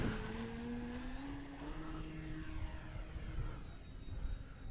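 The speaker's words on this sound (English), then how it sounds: "Helps if you turn your motor on." The electric motor of an RC model Fi156 Storch airplane runs with a steady whining drone, pitch rising briefly near the start, heard outdoors at moderate distance with no talk.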